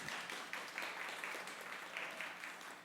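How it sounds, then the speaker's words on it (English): An audience at a storytelling night applauds, a dense, steady patter of many hands clapping heard faintly from a distance for a few seconds. "can we get a round of applause for BCAT?"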